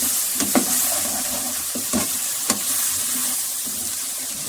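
Chopped tomatoes tossed into pulao masala frying in a pot, a steady close sizzle with a few scraping stirs and clinks of a spoon against the pan.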